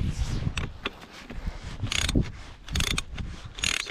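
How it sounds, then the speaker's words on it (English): A ratchet with a 21mm socket snugs down the plastic thermostat cover on an Evinrude ETEC outboard, giving several short clicking bursts close to the microphone. "the last bit, we'll snug it up with a 21mm socket"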